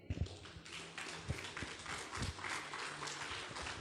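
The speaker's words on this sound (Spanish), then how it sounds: "¿Alguien le da palmas al Señor?" Worshippers at a Spanish-language church service clap along in a steady rhythmic pattern, with dull thumps underneath and a moderate, continuous level throughout.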